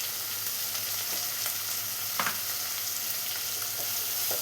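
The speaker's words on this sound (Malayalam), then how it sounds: "ഇതെല്ലാം കൂടെ നന്നായി തന്നെ ഒന്ന് വഴറ്റിയെടുക്കണം" Onions sauté with salt in a pan for a Kerala-style chickpea curry. There is a steady, close sizzle with a few light stirring scrapes.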